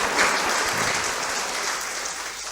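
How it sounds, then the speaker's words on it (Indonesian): Students at a university welcome event applaud, a loud, dense wash of clapping from a large crowd, held steady throughout. "Tepuk tangan dulu."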